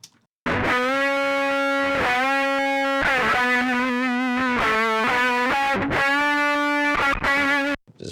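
Electric guitar solo played through a Waves GTR Buzz fuzz pedal plugin, heavily distorted sustained notes and bends, loud and harsh, alone with no talk.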